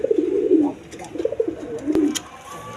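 Pigeons coo at a pigeon market, low throaty calls repeating close by over a busy background murmur, with a sharp click in the middle.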